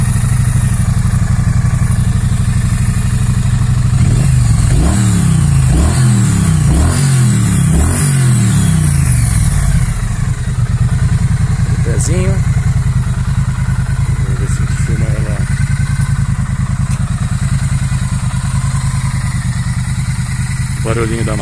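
A 2016 Triumph Street Twin 900cc motorcycle engine starts, revs several times in rising and falling bursts, then settles into a steady, loud idle, recorded close to the bike.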